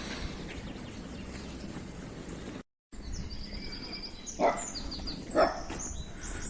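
Two short dog barks ring out a second apart from some distance, over steady outdoor background noise with faint birdsong.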